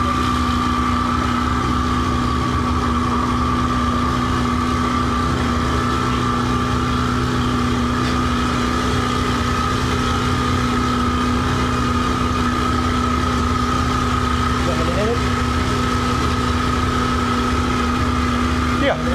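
A custom Corvette engine runs at a steady idle, with a constant droning hum and tonal whine that holds level throughout while people talk over it.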